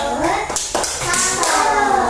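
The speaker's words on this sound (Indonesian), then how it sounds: "beri tepuk salut untuk suku Banjar" A classroom of children does the 'tepuk salut' cheer, a short run of rhythmic claps mixed with children's chanting voices, loud and close.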